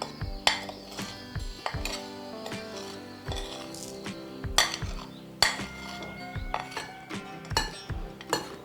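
Mung bean flour being mixed into rice flour in a bowl for mun kavum, with repeated close clinks and knocks of a utensil against the bowl in an irregular rhythm and no talking.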